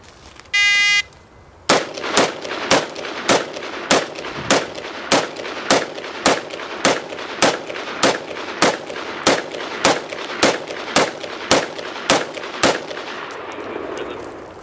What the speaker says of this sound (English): Jim's about to demonstrate our next drill shooting an AR-15 with 1 20-round magazine